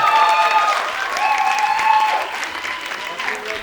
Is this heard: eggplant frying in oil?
no